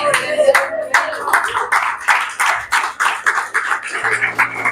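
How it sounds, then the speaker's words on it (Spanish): Clapping from a church conference congregation, fairly close and uneven, with distinct hand claps coming in quick irregular bursts and some voices mixed in. "aplauda más fuerte"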